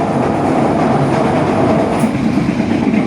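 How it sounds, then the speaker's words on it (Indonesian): A Joglosemarkerto passenger train between Kebumen and Tegal, Indonesia, rumbles and clatters steadily along the rails, a dense, continuous roar with rhythmic metallic clacking and wheel friction up close. "Denting rel, gesekan roda, dan suara angin yang terbelah menambah kesan dramatis perjalanan"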